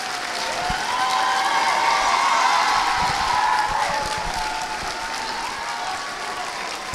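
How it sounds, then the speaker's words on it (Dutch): A full crowd claps loudly and continuously for all the performing groups at the 2001 evening party in the Wipmolen, swelling and then easing slightly, with a few cheers mixed in. "Ik denk dat we samen best wel eens even een flink applaus voor alle groepen van vanavond kunnen geven."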